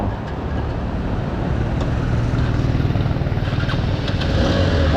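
A newly bought car's engine runs steadily after being started, a continuous low rumble close by with constant loudness throughout and no talk.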